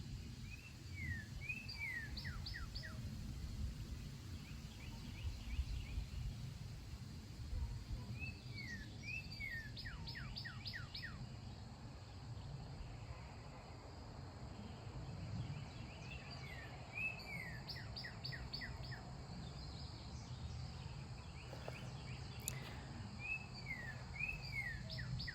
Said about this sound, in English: I love those birds. They're so pretty.